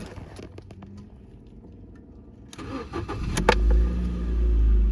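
Ford Fusion engine cranking and catching, a brief starter whir followed by a steady idle that grows louder and fuller; it fires almost immediately and settles into a close, even running hum.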